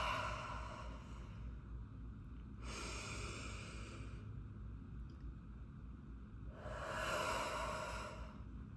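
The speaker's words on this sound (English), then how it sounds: "we're going to take a deep breath. Hold it." Deep breaths released slowly during a guided breathing exercise, two soft, airy exhales a few seconds apart, faint and close with no talking.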